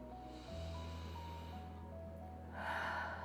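A single big deep breath, one slow audible inhale and then a breathy rush of exhale, heard close over a soft sustained musical drone in a quiet room.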